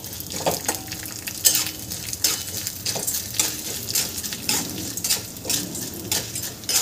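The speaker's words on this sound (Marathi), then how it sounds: "आता याला छान 2 मिनिटं परतून घ्यायचं आहे" Chana dal, urad dal and cumin powder are stir-fried in a pan for a South Indian tomato chutney, with repeated spatula scrapes and clinks over a light sizzle, close and unhurried, without speech.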